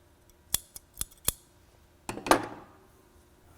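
Three crisp scissor snips in quick succession, a short pause, then a longer cutting stroke through T-shirt fabric with a soft rustle.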